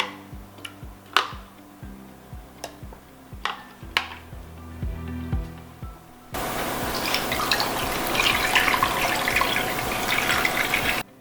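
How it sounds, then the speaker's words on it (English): Liquid poured into a baking pan around potatoes for stuffed tomatoes and peppers: a series of drips and taps, then a steady, close pouring splash for several seconds. "So I'm pouring this liquid in to really make sure that my potatoes are about 3/4 of the way covered"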